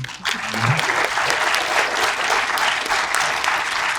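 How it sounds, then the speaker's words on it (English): A crowd at an awards night applauds steadily for several seconds, a dense wash of many hands clapping at a consistent level. "And they really do need a clap, everybody."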